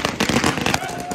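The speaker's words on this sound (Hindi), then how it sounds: "एक साइड पे फायरवर्क चल रहा है" Firecrackers crackle and pop in a rapid, dense cluster of bursts, fairly close, over a background of crowd chatter.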